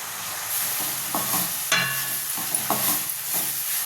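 Puffed rice (mandakki) tossed and stirred in a hot pan for Davanagere-style oggarane, giving dry scraping and rustling strokes in an uneven rhythm over a faint sizzle, close and clear with no talking.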